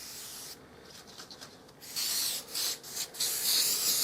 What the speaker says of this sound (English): Got some silicone spray here, which I'm going to spray on the cat just to release it,